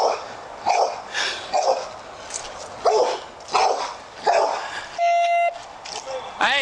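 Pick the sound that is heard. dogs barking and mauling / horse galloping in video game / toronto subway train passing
dogs barking and mauling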